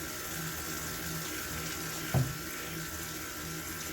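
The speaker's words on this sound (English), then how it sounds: "I am going to wash my hands." Hot tap water runs into a sink for handwashing, a steady even rush with a brief splash or knock partway through, close by and with no talking.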